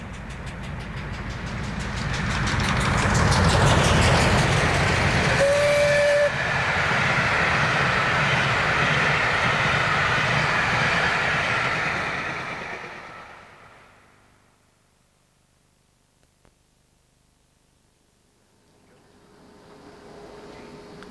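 Steam locomotives Clan Line and Tor Valley, double-heading the Waterloo Sunset train, roar past loudly for about twelve seconds, then fade away into near silence, with faint sound returning at the end.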